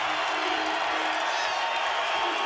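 A basketball arena crowd roars steadily after a dunk, a dense, sustained wash of cheering and shouting with no break, with a commentator's voice faintly mixed in.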